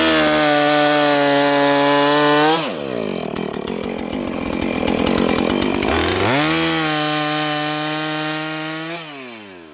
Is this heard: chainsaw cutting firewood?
yes